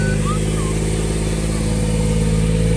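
A Daihatsu Midget's small engine idles through an aftermarket exhaust, a steady low rumble throughout, close and fairly loud, with faint voices in the background.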